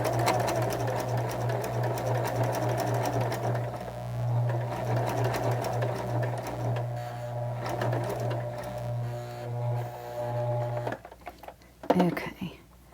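A sewing machine stitches a backwards zigzag on a handmade Christmas card, running as a steady close mechanical whir with rapid rhythmic ticking for about eleven seconds, then stopping with a few clicks and handling sounds.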